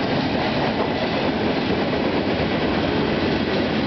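A CN freight train hauling lumber and petroleum cars rolls past at Bayview Junction, a steady, loud, close roar of wheels and rail noise with no voices.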